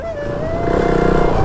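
A motorcycle ridden at steady normal pace, its engine a loud continuous drone with a faint even pulse, recorded close while the rider talks over it.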